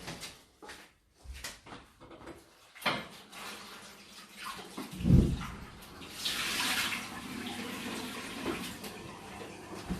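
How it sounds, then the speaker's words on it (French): Meat being rinsed under a running kitchen tap, with water splashing unevenly after a few clunks and handling knocks, then a steadier gush of flowing water toward the end, fairly close and quiet, no speech. "je vais juste rincer ma viande"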